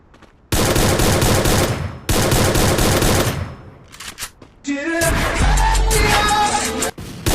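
Two long bursts of rapid automatic gunfire, loud and close, separated by a brief gap, followed by a scattered cluster of shots and a dense, sustained volley.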